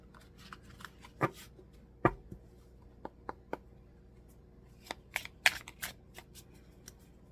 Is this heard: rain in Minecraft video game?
no